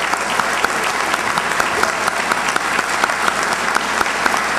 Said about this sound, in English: And I think we owe him some applause.